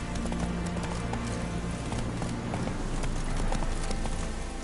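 The horse Roach gallops through Kaer Morhen in The Witcher video game, a fast, even clip-clop of hooves drumming continuously and fairly close, with no voices over it.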